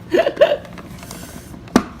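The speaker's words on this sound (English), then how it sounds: "I'm going to chop some onions on it" A few sharp chopping knocks as onions are smashed in a manual vegetable chopper, a quick pair and then a single louder thump, close and moderately loud, with no talking.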